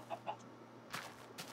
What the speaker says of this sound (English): Chickens are still too hard to hit.